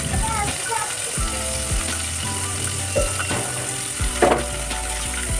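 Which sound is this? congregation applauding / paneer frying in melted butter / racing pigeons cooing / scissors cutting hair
paneer frying in melted butter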